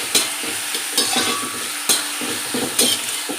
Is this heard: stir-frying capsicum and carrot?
yes